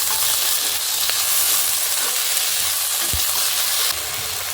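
Potato pieces fry and get stirred in a pan for aloo bhaji, a loud, close, constant sizzle with an occasional scrape or knock of the spoon.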